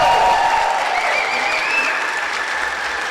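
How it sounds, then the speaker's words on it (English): Audience applause for a sixth grade class at an elementary school moving-on ceremony: loud, sustained clapping from a crowd with scattered cheers and whistles over it, lasting the whole moment. "let's give our 6th grade class of the Johnson Elementary School one last round of applause"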